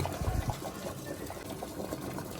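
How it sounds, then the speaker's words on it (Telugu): Vegetable pieces simmer in a pot of water on the stove, giving a soft, continuous bubbling and watery churn that stays fairly quiet throughout. "చూడండి ఉడుకుతుంది నాకు కానీ ఉడికేటప్పుడు స్మెల్ వస్తుంది చాలా బాగుందండి"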